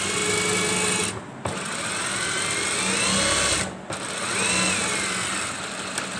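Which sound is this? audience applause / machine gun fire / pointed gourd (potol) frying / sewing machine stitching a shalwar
sewing machine stitching a shalwar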